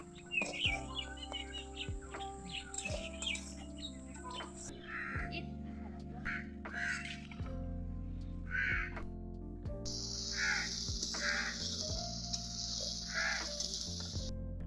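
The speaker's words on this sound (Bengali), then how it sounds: "কত রকমের পাখির ডাক কানে আসছিল," Crows caw repeatedly near a riverside village, their harsh calls spaced through the scene over a steady, tonal background hum.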